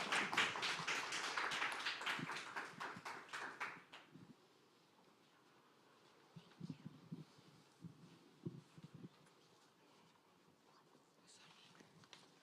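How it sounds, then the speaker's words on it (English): An online audience claps for a team at the end of a student sustainability competition finale. The clapping is sharp and close for about four seconds, then scattered soft taps and faint noises follow. "May we give them a round of applause for the presentation?"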